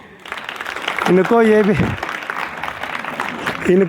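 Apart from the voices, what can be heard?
students applauding in a class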